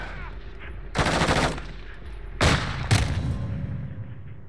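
Bursts of gunfire from Call of Duty: Modern Warfare II, loud and close: a sustained burst, then two sharp separate shots a moment later, with game ambience between.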